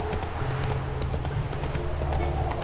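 Geralt's horse Roach gallops in The Witcher 3, hooves pounding in a fast, steady rhythm close by and loud throughout, with a faint voice underneath.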